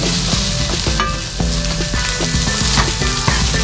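Carrots and onions frying together in a pan for pancit with fishcake, a loud close sizzle with repeated clicks and scrapes of stirring.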